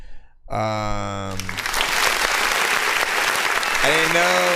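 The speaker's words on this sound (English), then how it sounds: "let me go over here and hit this button to clap for a second." Loud applause from a crowd, dense and sustained for several seconds, with a short musical tone at the start and again near the end.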